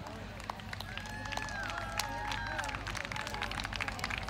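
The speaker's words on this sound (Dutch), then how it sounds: "Voor dit viertal weer een welverdiend applaus." An audience at a Brabant regional equestrian championship dressage freestyle to music claps steadily for a team of four riders, a dense crowd applause with murmuring and cheering mixed in throughout.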